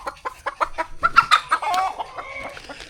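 Chickens on a chicken farm clucking in a quick, close series of sharp calls, rising into a longer, more drawn-out squawk, loud and alone without talk.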